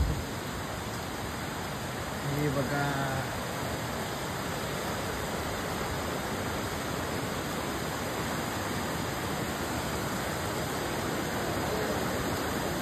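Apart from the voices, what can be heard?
Saptalingi river flowing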